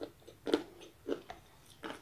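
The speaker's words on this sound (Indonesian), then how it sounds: "Dengerin suara kriukannya guys" Crunchy bites into crispy fried chicken served with fried noodles sprinkled with chili flakes, three or four sharp close crunches spaced apart, fairly faint, with no talking.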